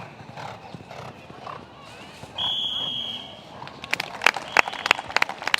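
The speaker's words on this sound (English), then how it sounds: "this is a big galloping horse" Horse hooves clip-clop across a cross-country eventing course, rapid rhythmic strikes that grow louder and sharper toward the end, with a brief whinny-like tone and crowd noise in the background.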